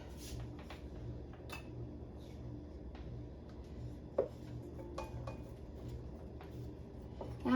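Ingredients for Tennessee caviar being added to a bowl and stirred in a kitchen: scattered clinks and knocks of utensils against the dish, a few sharper taps, fairly quiet over a steady background hum.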